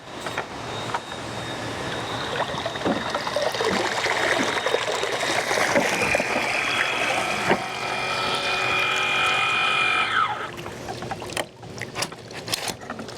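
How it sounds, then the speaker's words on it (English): Water streams and trickles steadily for several seconds as a handheld pool vacuum is lifted out of a pool, a whirring tone rising underneath, then the flow tapers off into drips. "now it's time to take this out of the water."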